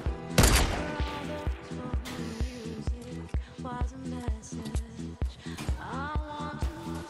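Fortnite gunfire: repeated sharp shots in irregular bursts over a thumping rhythmic music bed, loud and near, with game effects scattered throughout.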